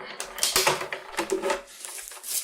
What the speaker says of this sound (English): run that through the machine, and that's going to give us one side